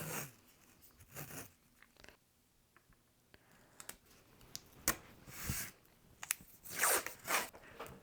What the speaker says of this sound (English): I want to tape the sides.